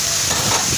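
Leftover cooked rice frying and being stirred in a pan with oil, a steady close sizzle with scraping stir sounds, no voices.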